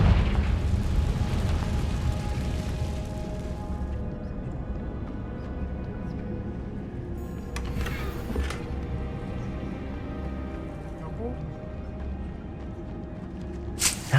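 A Confringo blasting spell goes off in a Hogwarts wizarding video game, giving a rumbling explosion that fades into a low, steady background. A brief burst rises near the middle.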